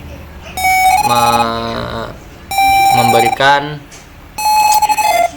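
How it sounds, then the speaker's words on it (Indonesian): An Arduino buzzer in a river water-level monitoring alarm sounds in three separate bursts, each a steady high electronic tone, with a person speaking between and over the beeps. "ketika sudah segini maka buzzer akan menyala."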